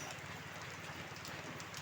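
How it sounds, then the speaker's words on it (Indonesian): Heavy rain pouring down during unloading of a tronton truck delivery, a dense, even wash of noise with a low rumble beneath, steady and moderately faint, with no voices. "suasana hujan yang sangat deras"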